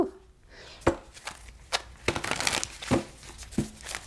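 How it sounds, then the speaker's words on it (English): Tarot cards are shuffled by hand in a quiet room, with several crisp riffling and slapping bursts spread irregularly over a few seconds, close and fairly soft. "Oh, look at how the cards are shuffling."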